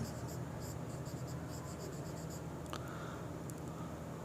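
Teacher writing notes during a Class 10 science lesson, likely chalk on a board: faint scratchy strokes in short bursts over a steady background hum.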